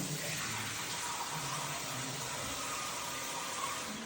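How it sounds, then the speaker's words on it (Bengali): Water streams steadily into a pot of cooking chicken curry, a continuous broad pouring hiss that stays even from start to finish with no talking. "এবার আমি এটাতে পানি দেবো, কিন্তু আমি পানি খুব কম অ্যাড করবো"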